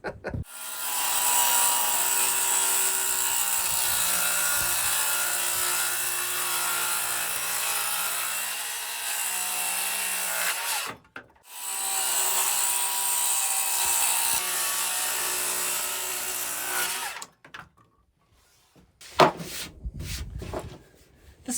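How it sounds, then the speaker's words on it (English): A piece of birch plywood is trimmed with a power tool that whines and grinds loudly in long sustained passes, with two short pauses and some quieter scraping and handling noises near the end. "The first thing I have to do is trim up this piece of plywood just a little bit."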